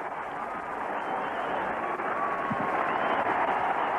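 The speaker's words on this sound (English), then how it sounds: "Applause from his teammates, and rightly so." Sustained applause from a distant cricket crowd, a steady wash of clapping with a voice faintly underneath.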